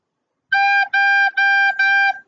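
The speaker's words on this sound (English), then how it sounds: "play any note you want on the recorder, and I just want you to go two, two, two, two into the recorder." Four tongued recorder notes at the same pitch, each cleanly separated by a short articulated break, played close and clear with no voices.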